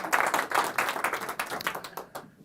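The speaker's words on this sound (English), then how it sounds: "Give my 3 assistants a big round of applause" Audience applause for a stage magician's three assistants during a public-access magic show, a short burst of dense clapping that thins out and fades within a couple of seconds, with no talk over it.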